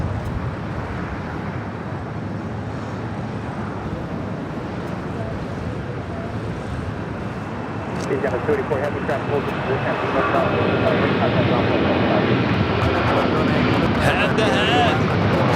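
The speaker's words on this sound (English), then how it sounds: "Have another heavy about to take off. It's Delta Airlines Flight 939 heading to JFK, 767-300ER." Delta Airlines Boeing 767-300ER heavy jet taking off at LAX, a steady loud engine roar that swells and brightens partway through, with a person speaking briefly over it.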